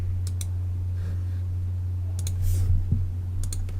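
Several sharp computer mouse clicks while working in LabVIEW with a USB-6008 device, a pair near the start, a couple near the middle and another pair at the end, over a steady low mains hum.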